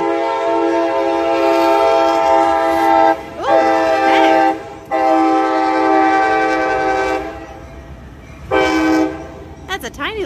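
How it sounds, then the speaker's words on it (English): Train in Terre Haute passing close while sounding its horn in long, loud blasts separated by short gaps, with the rumble of rail cars underneath and faint voices in between. "Little train."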